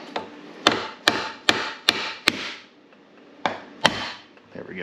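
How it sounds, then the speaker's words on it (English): Sharp hammer blows strike a metal part of a VW 02S six-speed gearbox during disassembly in a quick series of about eight hits, several evenly spaced and loud at close range, followed by a brief pause and two more. "Do we really want to hammer on this to get it off?"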